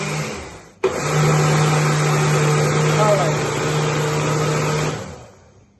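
A kitchen blender purees Haitian épis seasoning with a loud, steady whir that starts abruptly after a short pause, runs continuously for several seconds, then winds down at the end.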